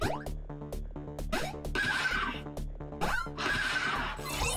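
A horse neighs repeatedly in an arcade minigame in Cyberpunk 2077, loud whinnies over a bouncy looping game tune with a steady beat.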